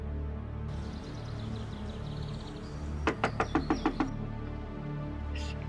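Someone knocks on a wooden door in a house with a quick run of about seven sharp raps, heard indoors over low room tone with no speech during the knocking.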